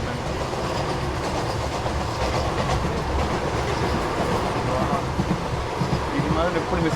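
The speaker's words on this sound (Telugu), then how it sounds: "విశాఖపట్నం సికింద్రాబాద్ వందే భారత్ అండి." The Visakhapatnam–Secunderabad Vande Bharat Express rushes past nearby with a steady, dense rumble and rhythmic clatter of wheels on rails. A person speaks quietly beneath the continuous train noise.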